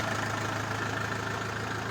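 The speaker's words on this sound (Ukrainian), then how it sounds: "Ми з Павловичем вирішили випробувати трактор скаут" A Chinese Scout 404 tractor engine idles with a steady, low, rhythmic diesel chug and even knocking pulses, continuous and fairly close, with no talking over it.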